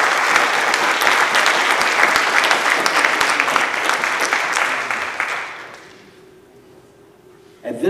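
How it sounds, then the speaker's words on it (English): An audience at a school board meeting applauds, a dense burst of clapping that fades out after about five seconds into quiet room noise. "can we give Tristan a round of applause?"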